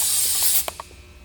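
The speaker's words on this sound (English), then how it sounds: "You can just spray it on a rag, wipe the oil residue off of" An aerosol can of brake cleaner sprays onto a rag in a short, hissing burst that cuts off, followed by a couple of light clicks and taps, while oil residue is cleaned from a Yamaha Apex snowmobile engine block.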